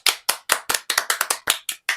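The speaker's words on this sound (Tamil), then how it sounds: "எல்லாரும் பெரிய கைத்தட்டல்" A crowd of children and adults claps for a student's song performance at a school singing event, sharp separate bursts in a steady close rhythm of about eleven claps, with no voices over them.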